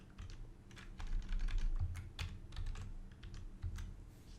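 Typing on a computer keyboard, steady close key clicks in an uneven rhythm for about four seconds with no talk.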